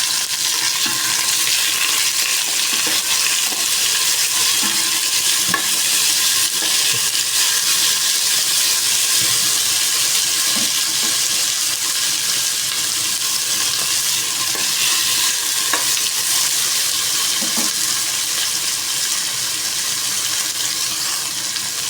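Lady finger (okra) and zucchini saute in a hot pan with tomato, giving a steady, close sizzle with occasional stirring scrapes that runs without pause throughout.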